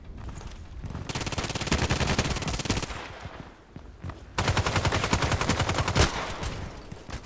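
An RPKT machine gun in the video game Contract Wars, played in hardcore mode, fires two long sustained bursts of rapid, loud shots separated by a short pause.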